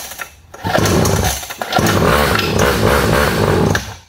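A small quad's engine starts after a brief pause, then runs in a loud buzzing rasp that briefly dips and recovers before cutting out abruptly at the end when the kill switch stops it.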